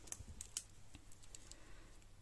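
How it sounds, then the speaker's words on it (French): Scissors snip crochet yarn at close range, a few faint, crisp clicks spread over about two seconds in a quiet room. "Je vais venir couper le fil."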